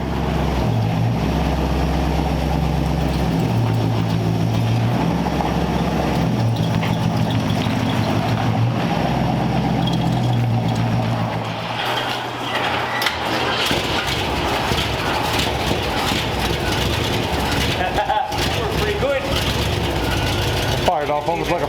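A flathead engine in a Mercury car fires up and runs with a deep, lumpy low rumble, then settles into a rougher, busier running sound later on.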